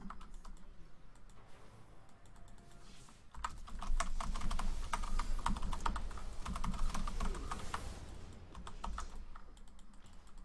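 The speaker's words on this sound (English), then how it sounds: "So what you do on Zed is basically just spam your keyboard." Rapid, continuous computer keyboard typing during a League of Legends URF match as Zed, dense clattering keystrokes that grow louder and busier after the first few seconds and run throughout with no talking.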